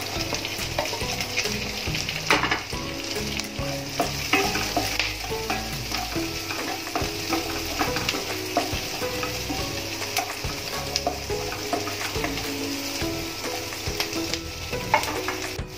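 Green chilies stir-fried in a pan for paneer chili, giving a steady sizzle with frequent scraping stir strokes throughout, close and moderately loud, no talking.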